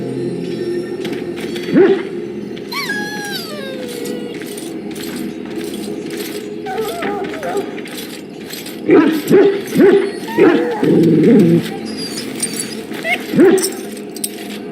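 A dog whimpers and yips in Dragon Age: Origins, with short whines and soft barks standing out over a steady game backdrop of ambient sound.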